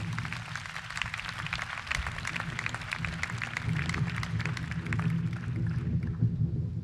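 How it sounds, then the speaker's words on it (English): Sustained audience applause fills a large university convocation hall after a vocal quartet's performance, a dense, steady wash of many hands clapping at moderate volume with no voices over it. "Let's give them another round of applause."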